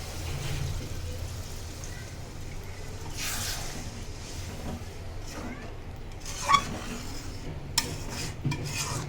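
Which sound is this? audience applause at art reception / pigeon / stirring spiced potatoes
stirring spiced potatoes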